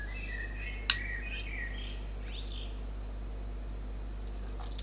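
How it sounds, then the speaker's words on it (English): Birds chirp faintly in the background, with a few scattered short calls and a brief sharp click early on, all over a steady low hum with no talking. "I heard birds in the background."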